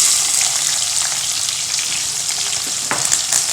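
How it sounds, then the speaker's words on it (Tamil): Onions frying in the same oil used for eggs and potatoes for a potato egg curry, a loud, steady close-up sizzle throughout with a brief stirring scrape near the end, and no speech. "அதே எண்ணெயில் வெங்காயத்தை சேர்த்துடலாம்"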